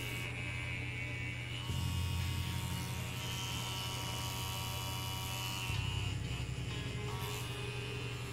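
A coil tattoo machine set up as a solid-hitting colour packer buzzes continuously and loudly up close, a steady electric whine that shifts pitch slightly a couple of times, with no talk.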